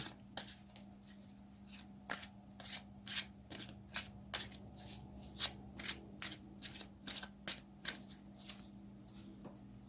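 A deck of tarot cards is shuffled up close, a quick series of crisp riffling snaps repeating in steady bursts over a faint background hum.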